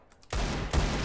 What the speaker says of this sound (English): I heard one more shot.